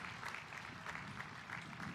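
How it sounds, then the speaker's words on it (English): Applause for alumni at a college of health and human services commencement, a faint, distant, steady patter of clapping from the audience with slight swells. "can we give a round of applause to all of our alumni who help to support our students?"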